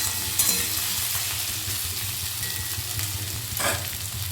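Taro (kochu) chunks fry in oil in a pan while being stirred: a steady, close crackling sizzle over a low hum, with occasional scraping bursts from the stirring.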